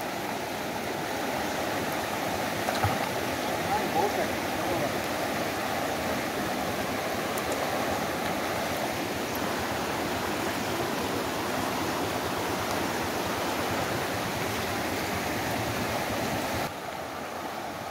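Bandhkhaman waterfall near Rajgangpur pours steadily in monsoon flood, a dense, close roar of rushing water that stays constant and loud throughout with no voices.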